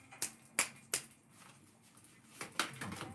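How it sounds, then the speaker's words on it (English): Several sharp, close hand claps ring out, three in quick succession and then a couple more after a pause, each crisp and isolated over a quiet room. "Posh clap."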